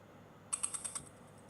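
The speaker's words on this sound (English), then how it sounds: "a Wi-Fi router," An RF meter's audio function picks up a Wi-Fi router as a short burst of about five quick, faint, evenly spaced electronic ticks followed by a brief fading tone.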